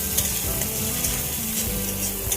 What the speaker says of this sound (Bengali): টমেটো কুচি দিয়ে হালকা নাড়াচাড়া করে নেবো